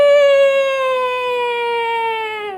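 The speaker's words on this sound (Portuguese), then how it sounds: "O som longo, a sirene, né, de uma ambulância, né, quando ela toca, ela tem um som mais prolongado" An ambulance siren sounds as one long, loud, sustained tone that drifts slowly downward in pitch. It rings with no break and cuts off after almost three seconds.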